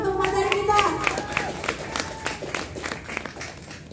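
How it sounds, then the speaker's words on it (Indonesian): Audience applause for a speaker at a student discussion forum: a burst of clapping from a small crowd, fairly close, with a voice speaking over it and the clapping tapering off. "Beri aplaus dulu dong untuk materi kita"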